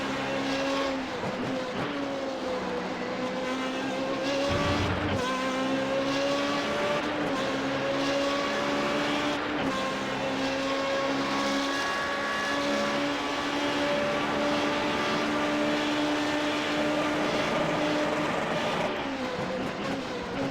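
A Formula Renault 3.5 race car at Road America, heard from an onboard position above the driver's head, whines at high revs while braking and downshifting into a corner, a loud continuous tonal engine drone shifting in pitch with no talking.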